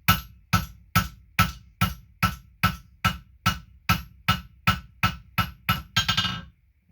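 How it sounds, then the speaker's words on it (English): A blacksmith's hammer strikes hot steel while forging a drift from round stock, landing about fourteen evenly spaced, ringing blows at a steady rhythm, close and loud, ending in a quicker flurry. "My hammer is going at a more even manner"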